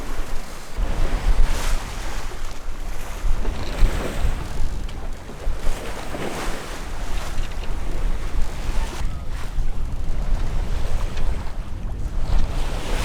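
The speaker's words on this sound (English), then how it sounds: "We keep smashing into a wave and then you smash into another wave" Continuous rushing water and wind roar with repeated heavy surges as a sailboat pounds through choppy ocean waves crossing the Gulf Stream, loud and close throughout.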